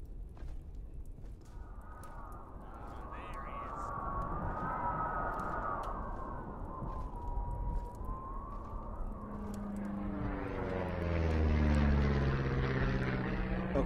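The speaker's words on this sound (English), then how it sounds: "I actually knew exactly where to look when I heard that plane start coming overhead" A propeller plane in the Diggers Trench Experience VR game sweeps in overhead, its engine drone rising from a distant hum to a loud, close roar with a Doppler-like shift, with no talk.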